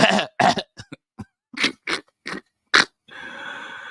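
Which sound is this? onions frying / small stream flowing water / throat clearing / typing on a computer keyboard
throat clearing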